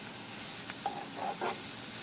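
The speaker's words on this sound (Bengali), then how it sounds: "আমি হালকা হালকা করে এই পেঁয়াজগুলোকে এবং এই মরিচের কুচিগুলোকে আমরা সুন্দর করে ভেজে নেব।" Sliced onions and chopped chilies fry lightly in a pan for a shrimp curry, a soft steady sizzle with a few brief stirring scrapes, no voices.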